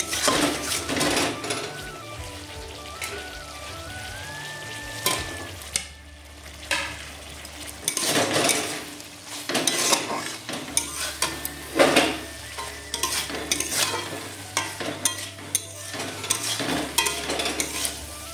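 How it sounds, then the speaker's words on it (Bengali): Fried pointed gourd tipped into sizzling masala and stirred, a steady fry under repeated scrapes and clanks of a spoon against the pan, close and busy, no talking. "মশলাটা প্রায় অনেকটা কষানো হয়ে গেছে, এর মধ্যে এবার ভেজে রাখা পটলগুলো আমি দিয়ে দেব।"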